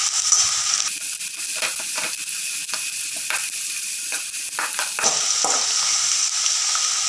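Jackfruit pieces deep-frying in hot oil over a high flame, a dense steady sizzle and bubbling hiss with intermittent stirring clicks and scrapes, close and loud, no voices.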